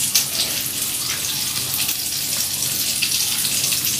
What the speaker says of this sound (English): Deep fry broccoli